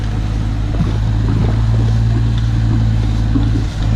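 A six-wheel Isuzu truck backs up near a yellow excavator at a muddy dirt-digging site. Its engine gives a loud, steady, low drone throughout, with some wind rumble and a brief dip near the end.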